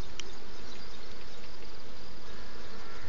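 Honeybees buzzing steadily and densely around an open hive during an inspection by a beekeeper without a mask, a continuous close hum filling the whole moment with no talk.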